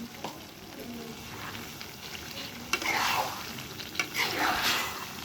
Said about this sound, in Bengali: এভাবে করে সুন্দর করে মিক্স করে দেবো এর সঙ্গে।